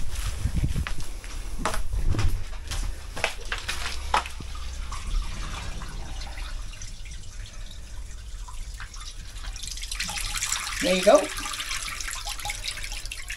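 Water runs through a drain gully and clay pipes in a steady, close gurgle and trickle with scattered drips and clatters, while a voice briefly speaks near the end.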